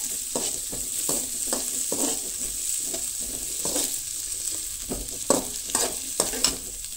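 Ginger, garlic and green chillies fry in a pan with a steady sizzle, punctuated by repeated scraping stirs of a spoon at an irregular rhythm, close and fairly quiet.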